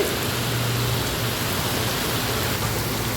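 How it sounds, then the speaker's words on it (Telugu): Heavy, unrelenting rain pouring down as a steady, dense hiss with no pauses, loud and close, with no voices. "బాబోయ్ వర్షాలు చూసారా ఎంత భయంకరంగా కురుస్తున్నాయంటే"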